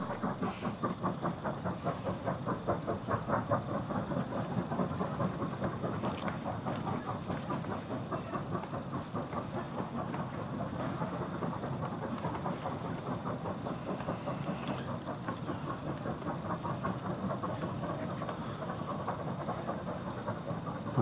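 Locomotives hauling a train across a viaduct in China, a steady dense rumble and rolling clatter of wagons that holds at an even level throughout, with no talk.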